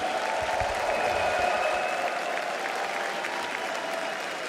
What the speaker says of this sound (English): Hamburg, make some noise for one of the best position 4 players in the world, 9 Class and P-Vision.